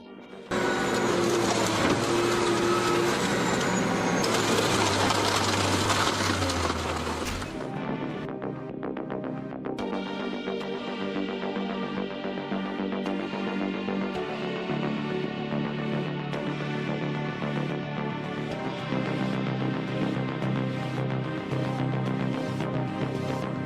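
An industrial crusher shreds car doors, glass and engines: a loud grinding, crashing burst in the first seconds, then a sustained heavy mechanical churning with tonal whine and clanks that continues steadily to the end, with no voices.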